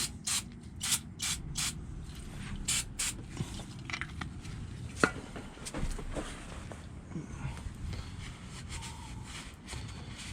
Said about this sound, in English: I'm gonna spray some brake cleaner on the side of this and get the gunk out.